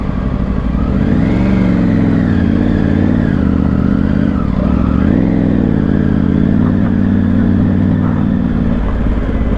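A Triumph Tiger 900 riding off-road at high altitude, its engine droning loud and close throughout with rising and falling revs as the bike works over rough, muddy ground.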